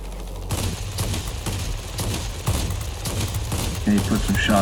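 Aircraft guns on an XFL-1 Airabonita fighter in World of Warplanes fire in rapid repeated bursts throughout, over a steady engine drone, with a voice talking at moments alongside.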